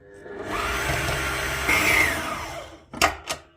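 An electric dough kneading machine whirs steadily while mixing bread dough of sugar, yeast and water for Ramadan pide, a loud continuous motor drone that fades out, followed by two brief clattering knocks.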